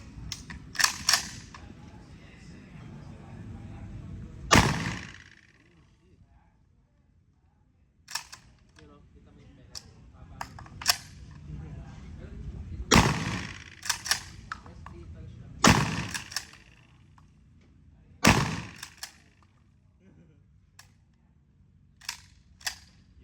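Gunfire at an outdoor firing range on Mt. Arayat: about seven sharp, loud single shots spaced several seconds apart, each ringing out with a short echo over low background noise and scattered faint clicks.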